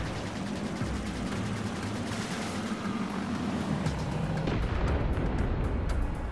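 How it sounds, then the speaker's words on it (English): Explosions and gunfire rumble in Trailmakers during an airborne combat mission, with a dense, continuous barrage of blasts and crackling bursts, moderately loud and building toward the end, with no talking. "I think one of them just crashed because I heard a big explosion."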